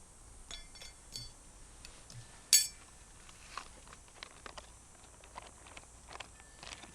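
A Gerber Complete utensil stirs food in a pot on a REDCAMP wood stove, giving faint, scattered scrapes and light metallic clinks, with one sharper clink partway through, close and quiet.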